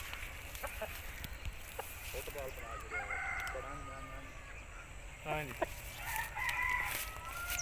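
An Aseel rooster crows and clucks nearby among other fowl, several short harmonic calls rising over a murmur of people talking outdoors.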